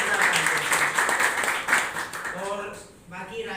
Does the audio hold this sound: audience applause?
yes